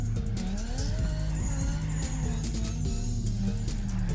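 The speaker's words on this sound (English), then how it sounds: "See, you can barely hear the engine, but you can hear it a bit." A car drifting in the racing game Torque Drift 2 during an online session: a steady engine drone with shifting pitch under continuous tire noise, fairly loud and unbroken throughout, with no talking.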